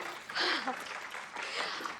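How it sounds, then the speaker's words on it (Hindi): Brief burst of clapping from a small group in a lively Hindi TV-show scene, rising and fading in two short waves over about two seconds, with voices mixed in. "तालियां।"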